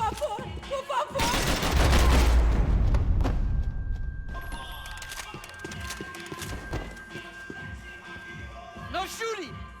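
Automatic gunfire in Max Payne 3 erupts as a dense, loud, close burst lasting a couple of seconds and then fades into scattered thuds, with shouting voices around it.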